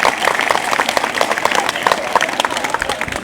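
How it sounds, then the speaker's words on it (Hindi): A live comedy show audience claps for a performer, a dense, fairly loud burst of crowd applause throughout, with some voice mixed in. "तो दलबीर जी यहाँ स्पेशल ताली आपकी मूंछों के लिए जी"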